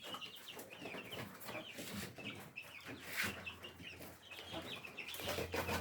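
Rhode Island Red chicks in a DIY brooding cage indoors, clucking and peeping continuously at close range, with busy overlapping calls and a steady low hum underneath.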